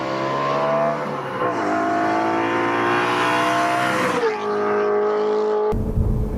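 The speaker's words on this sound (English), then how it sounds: "As you downshift through the gears, you can hear the engine as it starts to sing a little bit more." A 2013 BMW M3 E92 engine revs and falls as the driver downshifts through the gears, with steady loud harmonic engine tones rising in pitch and then cutting off abruptly near the end.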